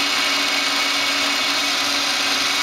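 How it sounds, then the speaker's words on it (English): Live tool spindles on a Citizen L20 3M7 CNC Swiss lathe run at 1000 RPM, giving off a constant, close, high whirring hum with a smooth mechanical whine that holds steady, with no voices. "And the live tool spindles at 1000 RPM."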